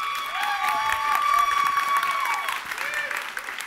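An award show audience applauding to vote, sustained clapping and light cheering from a crowd with a host's voice over it.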